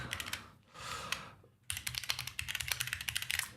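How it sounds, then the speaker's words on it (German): A computer keyboard is typed on up close: a short burst of clicks, a pause, then a brisk, steady run of crisp keystrokes. "Schnell noch was getippt und dann geht das hier auch weiter."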